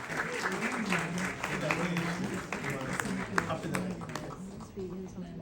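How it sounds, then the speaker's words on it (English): Crowd applause at a summit for veteran film maker Puran Chand Sareen, continuous clapping that carries on under a speaker's voice. "A big round of applause for him."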